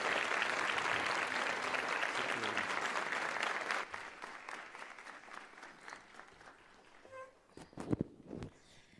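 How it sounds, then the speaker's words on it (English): A large crowd applauds loudly at a school leadership summit as a speaker comes to the podium, dense clapping that thins out after about four seconds into scattered claps and faint footsteps. "Can you all kindly rise and give a round of applause as she's coming to the podium?"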